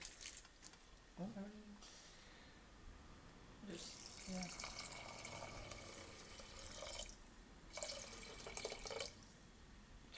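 Water from a pint measure is poured over rice for restaurant-style pilau, heard as quiet splashing and trickling bursts with a few drips, close and faint, with a brief voice early on.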